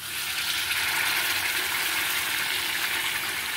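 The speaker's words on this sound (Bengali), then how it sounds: "এই মাখনের জল কিন্তু আমি এখানটাতে দেব।" Butter water pours into a hot cooking pot in one steady, rushing gush of liquid, close and fairly loud, lasting a few seconds without a break.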